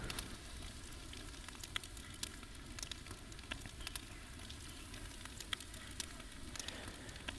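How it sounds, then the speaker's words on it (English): Steady crackling sizzle of meat frying in the video game Valheim, continuous and fairly faint, with scattered sharper pops throughout and no talking. "Wait for that first sizzle."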